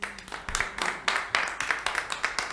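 A church congregation claps for Jesus in a lively burst of applause, many hands striking in quick, uneven rhythm, fairly close and moderately loud, with no talking over it.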